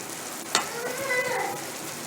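Mango thokku sizzles and fries in a pan as a spoon stirs it, a sharp scrape at the start giving way to a steady crackling hiss, close and fairly loud.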